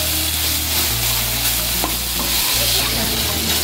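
Tomatoes cook soft in a pan, with a steady, close sizzle broken by scraping spoon strokes as they are stirred, and no voices.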